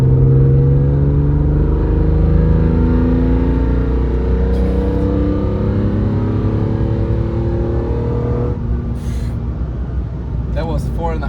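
BMW E46 M3 CSL engine revving up toward 4,500 rpm, a loud, rising, sustained drone that climbs steadily before dropping off, followed by a few brief clicks near the end.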